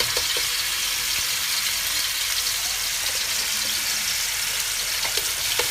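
Garlic dropped into hot cooking oil gives a steady, close sizzle and crackle that holds evenly throughout, with no talking.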